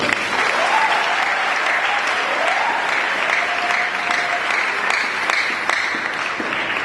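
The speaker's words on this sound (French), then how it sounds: "On peut acclamer pour nous." Steady crowd applause at a Catholic Mass (Eucharist) in Kinshasa, dense even clapping throughout with a brief high whistle-like tone and light voices in the background.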